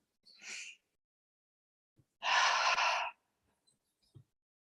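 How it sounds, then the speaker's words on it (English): Three deep cleansing breaths taken in an upright seated meditation: a short soft breath, then a longer, louder whooshing exhalation, with faint small sounds afterward in a quiet room and no speech. "we'll begin with 3 deep cleansing breaths"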